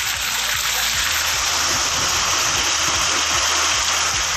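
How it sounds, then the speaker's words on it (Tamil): Heavy rain with gusty wind pours down around Aruppukottai in Virudhunagar district, Tamil Nadu, as a loud, dense, unbroken roar of falling water with scattered low spatters. "பலத்த மழை பெய்ததால் குளிர்ச்சியான சூழல் நிலவியது"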